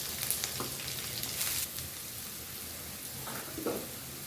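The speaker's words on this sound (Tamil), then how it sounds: "நம்ம இப்போ நறுக்கி வச்சிருக்கிற வெங்காயம் எல்லாத்தையும் சேர்த்துக்கணும்" Chopped onions sizzle steadily in hot oil while making aval upma (poha), a soft, even hiss with occasional light crackles and pops, fairly quiet and close.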